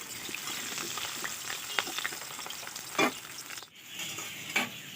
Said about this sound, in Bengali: এবার দেব কেটে রাখা আলুগুলো।